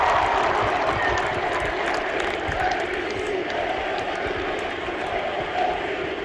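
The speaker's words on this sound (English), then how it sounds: "Austin Riley, let's hear that chant." Large outdoor crowd at the Atlanta Braves World Series parade chanting for Austin Riley, a dense continuous roar of voices and cheering that holds steady throughout, with no single voice standing out.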